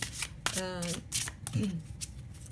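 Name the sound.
shuffling oracle cards before drawing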